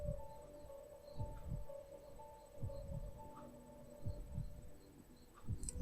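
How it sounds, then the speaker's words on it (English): A creepy heartbeat in the background of Final Fantasy 7: low, soft double thumps repeating at a slow, irregular pace over a faint droning hum with thin high tones. "And we get that creepy heartbeat sound in the background."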